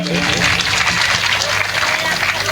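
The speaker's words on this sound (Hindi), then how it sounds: "जोरदार तालियों से स्वागत करेंगे।" Applause from an audience at a Krishna-Rukmini wedding religious discourse event, a steady wash of clapping mixed with a speaking voice and a low background hum.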